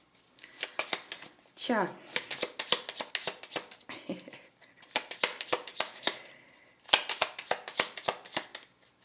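Playing cards are shuffled close by in repeated quick riffles and slaps, sharp clustered bursts with brief pauses between, while a voice talks over part of it.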